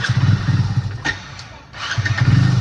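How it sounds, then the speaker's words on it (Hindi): A motorbike engine starts, giving a throaty, rapid mid-pitched putter that dips briefly to quiet with a couple of clicks and thumps, then catches again into a loud, steady chug close by. "अपनी बाइक स्टार्ट हो गई है"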